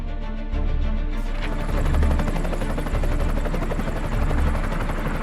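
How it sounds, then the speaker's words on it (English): A helicopter in flight with its doors open, flying from the coast up toward mountain rainforest; loud, continuous close rotor thudding and engine roar with wind buffeting, no talk. "So have you been in a helicopter before?"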